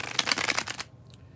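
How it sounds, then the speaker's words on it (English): Tarot cards riffled together in a bridge shuffle, a dense crisp fluttering burst for most of a second that stops abruptly, followed by a faint soft tap. "when I do the bridge shuffle, as I'm about to do for the second and last time"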